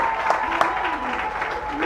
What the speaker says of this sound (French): Applaudissements, allons-y, en continu.